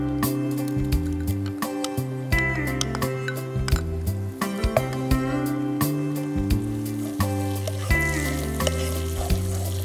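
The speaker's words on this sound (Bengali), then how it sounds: "পেঁয়াজ কুচিটা ভাজা হতে থাক।" Chopped onions frying in melted butter in a pan, a steady sizzle heard beneath music, with occasional light clinks of a utensil stirring.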